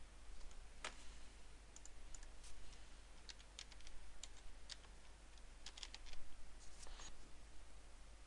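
Quiet computer keyboard typing, a scattered run of light key clicks in short clusters over a steady low background hum, no voice.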